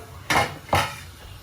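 Two quick metallic scrapes and clinks of a spoon against a cooking pot as dried fish curry is stirred, close and distinct with a brief pause between them.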